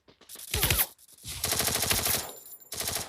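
Rapid automatic gunfire from the Free Fire mobile battle royale game, loud bursts that come in two long stretches with a short gap between them, then resume near the end, with no talk over them.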